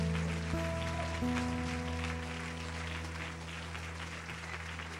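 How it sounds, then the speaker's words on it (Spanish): A church congregation gives a strong round of applause to the Lord, a soft, steady rain-like patter of many hands over sustained organ or keyboard tones, distant and continuous. "Dale un fuerte aplauso al Señor"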